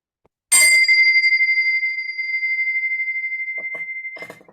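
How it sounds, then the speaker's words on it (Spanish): A single bell is struck once and its bright, clear tone rings on for several seconds, slowly fading, as a meeting of a study group opens; a few quiet shuffles follow near the end. "Y a continuación tenemos Carlos con la campana."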